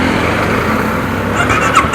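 A Honda CBR 250R motorcycle fitted with an Akrapovic exhaust rumbles steadily at idle after starting, a loud, close, continuous low engine tone with slight surges near the end.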